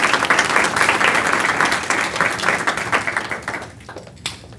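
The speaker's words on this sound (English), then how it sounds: "With a round of applause, please, Anna, come forward" An audience at a graduation ceremony applauds a young woman called forward, close, dense clapping that gradually thins and fades into scattered individual claps.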